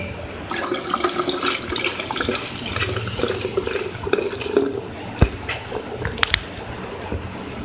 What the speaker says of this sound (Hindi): अब मैं इसमें ऐड करूँगी सोडा वाटर।